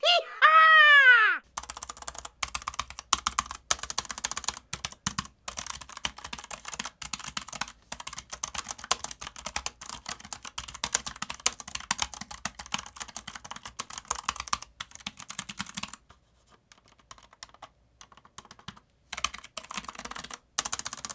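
Rapid, steady clacking of keyboard typing on low-profile tactile switches, close and crisp, with brief pauses and a short squeaky sound at the start.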